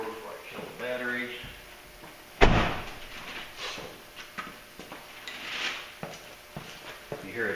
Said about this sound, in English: Close my door before I kill the battery.